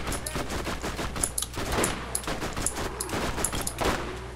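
Rapid video-game gunfire from Borderlands, a burst of repeated shots in quick succession with sharp transient cracks over a constant game background, fairly loud and with no speech.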